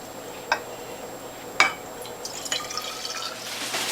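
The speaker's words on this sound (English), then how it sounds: "I'm topping this off with distilled water" Distilled water poured into juice bottles of fresh carrot, beet, French sorrel and collard juice, heard as soft trickling with a few sharp drips and splashes that swell toward the end.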